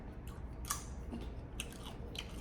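Close, crunchy chewing of a small piece of mint gum from a Polish military ration, with irregular crisp bites and clicks at low volume and no talking.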